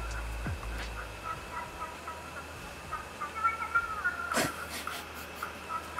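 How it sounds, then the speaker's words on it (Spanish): A cat lets out a loud, wavering yowl, heard alone against faint room hiss, with a sharp burst of noise near the end. "Joder, el ruido del gato."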